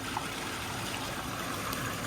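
Continuous splashing water from an artificial waterfall falling into a koi pond, a steady close rush and trickle with no pauses and no voices.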